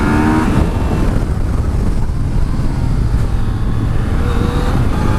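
A 2018 Yamaha Tracer 900 motorcycle at full throttle, a loud continuous roaring engine drone heard from the rider's position, mixed with heavy wind rush and no talk.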